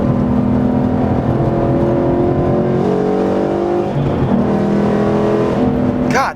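A Ford Mustang GT engine roars loudly and steadily at close range while cornering, its pitch rising and dipping through downshifts and gear changes, with a brief sharp squeal at the end.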